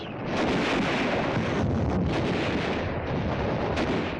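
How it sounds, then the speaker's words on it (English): Dense, continuous roar of WW2 combat with rifle fire, mortars and flamethrowers, loud and unbroken throughout with rumbling booms blended into a wall of noise. "We use all the firepower we have to blast them out. Our rifle fire is deadly. So are the flamethrowers and the mortars."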